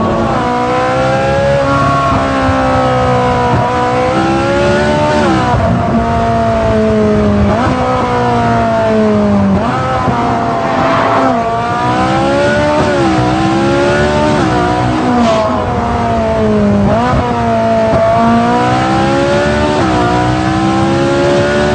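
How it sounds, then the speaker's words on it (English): Ferrari 458 Spider V8 revving hard in race mode after a downshift, a loud, continuous engine howl rising and falling in pitch through repeated throttle surges, with no voices. "The 458 Spider is about experiencing the noise, because the noise in the cabin, oh, it's very good. Race mode, down a cog"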